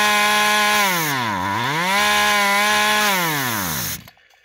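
A Poulan Pro chainsaw engine being tested, revving loudly with a sharp dip and rise in pitch, holding a steady whine, then cutting out abruptly to near silence at the end.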